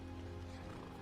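A horse neighs in Skyrim, modded with the Steeds of Skyrim horse replacer, a short loud whinny over clip-clop hooves and game ambience.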